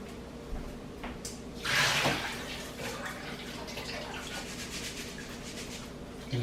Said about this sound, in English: We're just going to drain the rice.